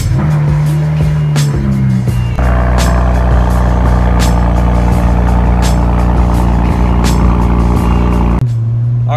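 A BMW 335i with a custom engine tune idles and then revs up, a loud steady drone close by that steps higher partway through before dropping back to idle near the end.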